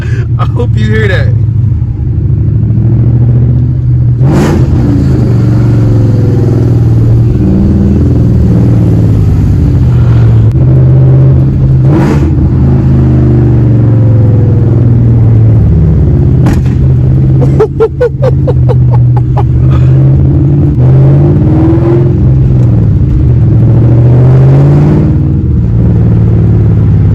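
Straight-piped Ford Cobra V8 pulling hard on the road, loud raw exhaust rumble rising and falling through several revs and wide-open accelerations, with sharp crackles and a downshift burst, excited voices speaking over it.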